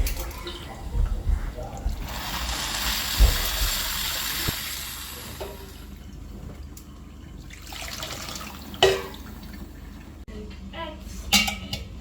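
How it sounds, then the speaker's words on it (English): Cold water splashing and running over a pressure cooker holding meat to cool it before opening, a steady broadband pour with occasional clanks of metal, fairly close and continuous. "cool down the pressure cooker with cold water"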